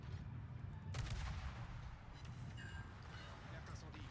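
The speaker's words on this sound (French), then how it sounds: "Allez vite, mes canons." Naval guns in the World of Warships video game fire as a dense, continuous rumbling barrage, with sharper reports breaking through the sustained low roar.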